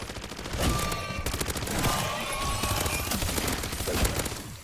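Rapid automatic gunfire in MW3 Zombies rattles out in dense continuous bursts, loud and close with no talk.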